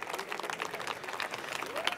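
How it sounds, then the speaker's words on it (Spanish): A live audience at a young entrepreneurs' event applauds three young entrepreneurs, a dense, fairly quiet patter of clapping heard from within the room, with some crowd murmur mixed in. "antes un aplauso a los tres emprendedores"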